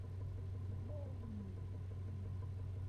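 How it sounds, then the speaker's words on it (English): A low, steady engine rumble idles throughout, quiet and continuous, with a faint higher tone sliding briefly in the background. "Oh, it's probably a car."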